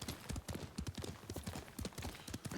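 Horse hooves clip-clop in the Ghost of Tsushima video game, a quick, even rhythm of many close hoofbeats at a trot, moderately quiet and with no talk over it.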